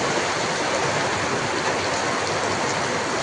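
Steady, dense hiss of rain falling continuously, loud and even, with no voices or breaks.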